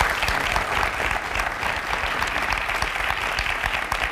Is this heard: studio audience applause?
yes